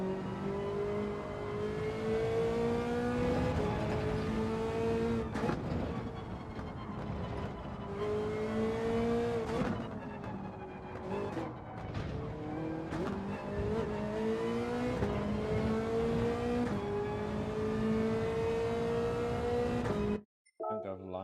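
A race car engine in Gran Turismo 7 holds a steady, loud drone with rising and falling pitch as gears shift, with a voice talking over it throughout.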